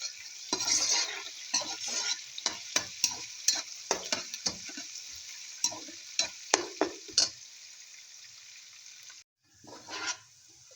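Sliced organic garlic and onions fry in a pan, giving a bright, hissing sizzle broken by frequent sharp scraping taps of stirring, fairly close, fading to quiet near the end before a brief last burst.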